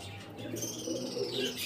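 Faint low cooing from a pair of high-flying pigeons, soft and continuous against a quiet background with a little chirping.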